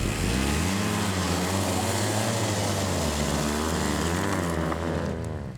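BMW HP2 motorcycle engine revving as the rider gives it gas on an off-road climb, a loud continuous rising and falling drone close to the microphone, with no talking.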